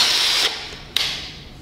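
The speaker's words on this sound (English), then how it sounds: "start riveting" A drill-driven pop riveter sets a rivet: a close whirring motor runs, cuts out briefly, then a sharp mechanical snap as the mandrel breaks, followed by a fading whir, with no talk.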